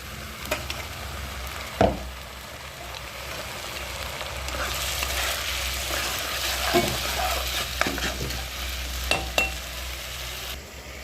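Ginger-garlic-tomato paste goes into browned onions frying in a pan and is stirred, giving a continuous sizzle broken by scraping strokes and occasional sharp clinks of the spoon against the pan.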